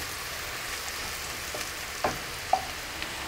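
Onions browning in a pan for Ghormeh Sabzi, a constant soft sizzle and hiss of oil with a couple of small pops and a light stir, close and steady.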